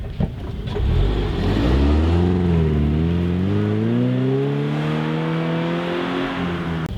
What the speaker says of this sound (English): I'm gonna go ahead and take off so you can hear what the exhaust sounds like